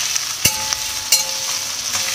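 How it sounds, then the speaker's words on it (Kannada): Green chillies and coriander leaves fry in a pan for hotel-style sambar, giving a steady hissing sizzle broken by a couple of sharp stirring clinks, with no talking. "ಎತ್ತಿಟ್ಕೊಂಡಿರೋಂಥ ಹಸಿಮೆಣಸಿನ್ಕಾಯಿ, ಕೊತ್ತಂಬರಿ ಸೊಪ್ಪು ಇದೇ ಥರ ಫ್ರೈ ಮಾಡ್ತೀನಿ"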